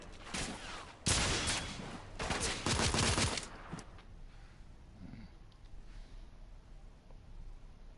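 Gunfire rips out in The Order: 1886 as suppressing fire, a dense burst of rapid shots for a few seconds that then cuts off, leaving a faint rustling background.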